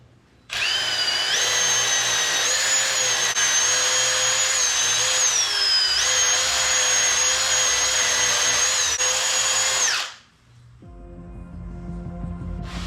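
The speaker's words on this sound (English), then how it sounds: "now it's time to polish it one last time" A power tool whines loudly and steadily for about ten seconds while polishing a newly drilled truck shaft handle, with a brief dip in pitch midway before cutting off abruptly into quiet.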